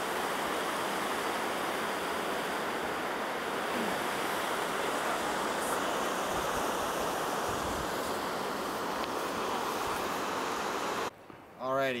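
The Middle Fork Salmon River rushes steadily at the confluence of Marsh Creek and Bear Creek, a loud continuous broadband roar of flowing water close by, with a brief voice near the end.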